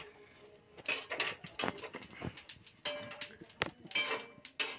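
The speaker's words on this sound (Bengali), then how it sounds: "এটা শুকনো খোলায় ভাজছে কিন্তু, হ্যাঁ কিছুই দেওয়া না, কড়াইটাকে গরম করে তার মধ্যে ভাজা হচ্ছে।" Cumin, fennel and dried red chillies dry roasted in a hot kadai without oil, with intermittent metallic scrapes and light clinks of stirring, fairly faint and close.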